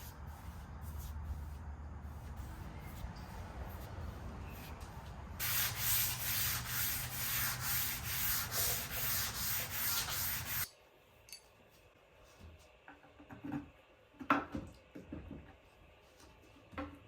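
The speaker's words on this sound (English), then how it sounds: "I sanded again using 320 grit to remove any raised grain the paint wash may have caused" Dresser drawer fronts are sanded with 320 grit sandpaper, the steady scratchy rubbing stroking back and forth, loudest in a stretch of brisk passes before giving way to quieter handling sounds and light knocks.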